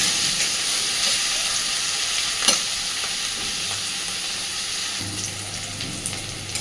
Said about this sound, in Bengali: পেঁয়াজগুলোকে এখানে আমি অনেকটা একটু লালচে করেই ভাজবো